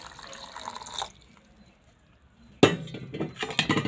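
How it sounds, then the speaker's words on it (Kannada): Water splashes and clinks into a mixer-grinder jar while fenugreek dosa batter is being ground, with a clear burst of pouring, a quiet pause, then a louder, longer splashing run. "ರುಬ್ಲಿಕ್ಕೆ ಒಂದು ಸ್ವಲ್ಪ ನೀರು"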